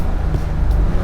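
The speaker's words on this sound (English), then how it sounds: "I start zipping through the gears" A 1974 Porsche 911 RSR/IROC pulls hard through the gears, a loud, close, steady engine roar with strong low rumble and no gaps over the short stretch.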